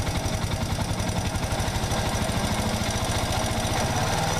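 Yamaha SR 125 single-cylinder motorcycle engine running steadily just above idle, a close, even rapid thumping pulse with mechanical clatter throughout, no voices.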